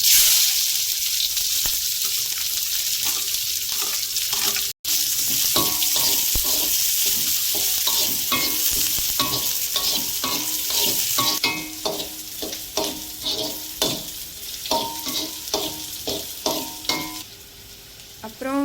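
Onions frying in hot oil after mustard seeds have popped, a strong sustained sizzle that later gives way to rhythmic scraping and stirring strokes against the pan, with a brief dropout partway through.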